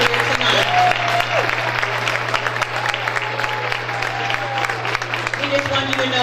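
At a 2018 awards ceremony, an indoor audience applauds board members with steady, lively clapping over a low constant hum, while a voice speaks over part of it.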